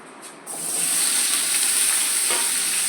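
Mustard oil heating in a wok jumps from quiet to a loud, steady sizzle and hiss that holds evenly, with a faint clink near the end.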